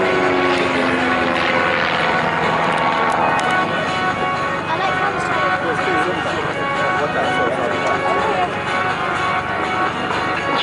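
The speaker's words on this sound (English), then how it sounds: "you'll see Raven 5 there pulling away distinctively so that he can come in and do a few manoeuvres himself" Raven aircraft pulling away to set up manoeuvres at the Bournemouth Air Festival, a lightweight touring plane; its engine drone runs steadily and loud throughout, mixed with crowd and commentary.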